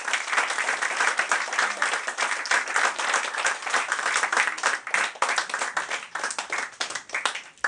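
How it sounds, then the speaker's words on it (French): An audience at an evening show in France applauds warmly, with dense, sustained clapping filling the whole stretch and a few louder bursts near the end. "on les applaudit très fort."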